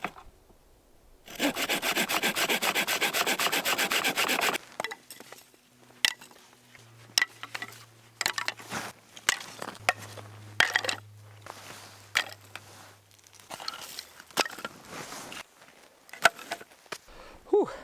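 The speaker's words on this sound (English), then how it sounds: "Alright, let's cut up some wood." Dry firewood sawn by hand outdoors at a campsite, a dense steady rasp of strokes for a few seconds near the start, followed by scattered knocks, crunches and handling of the wood, with a low engine-like hum in the background.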